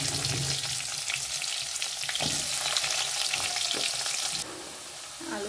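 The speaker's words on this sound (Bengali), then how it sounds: "আলুটা ভেজে নিই।" Potatoes frying in a pan for a pulao and paneer meal, a steady close sizzle with occasional stirring clatter that softens slightly near the end, no voices.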